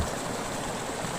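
Water rushes steadily in a natural stream, a dense, continuous, fairly loud flow with no voices.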